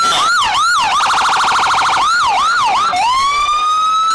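Loud emergency vehicle sirens at a Fourth of July parade in Hamilton wail and yelp close by, sweeping up and down, then switching to a rapid warble before settling into a long rising tone.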